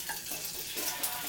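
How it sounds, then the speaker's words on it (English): An egg frying in plenty of hot oil, a steady broadband sizzle holding evenly close by with faint crackles and no voices. "The egg's cooking perfectly."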